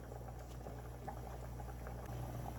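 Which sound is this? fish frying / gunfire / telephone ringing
fish frying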